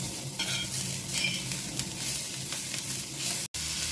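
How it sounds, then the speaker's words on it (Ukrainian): Spices fry and sizzle in a pan over medium heat, a steady, close, broadband crackle with light stirring scrapes running throughout and a brief cut near the end. "Обсмажую пів хвилинки на середньому вогні, щоб гарно розкрилися всі аромати."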